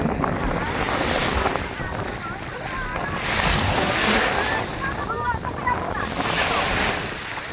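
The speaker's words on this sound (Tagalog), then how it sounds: "Lakas ng alon, guys." Strong sea waves surge and crash without a break, with heavy wind buffeting the microphone into a dense, roaring wash that swells and eases for several seconds.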